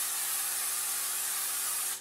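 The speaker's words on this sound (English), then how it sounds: "by spraying a muffin tin" A single continuous hiss of aerosol cooking spray onto a muffin tin, close and steady for about two seconds before cutting off.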